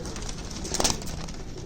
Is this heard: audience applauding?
no